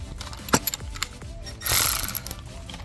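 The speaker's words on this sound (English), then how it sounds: "So we can switch to our impact wrench and just try to tighten this one." An impact wrench tightens a bolt on the aluminum torque strut mount of a 2013 Nissan Altima 2.5L, giving a few short clicking taps and then a loud, close rattling burst of about a second.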